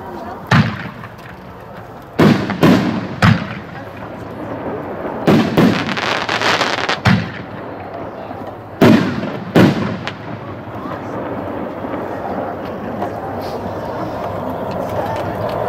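Neon Skies Artillery shells from a 24-shell kit launch and burst in a fireworks demo, with a series of loud, sharp booms arriving in irregular clusters and fading between them, while a voice speaks in the background.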